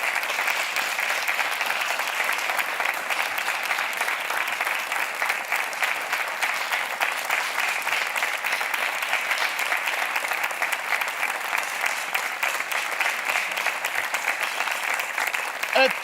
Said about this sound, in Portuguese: É uma ronda bónus que merece aplausos.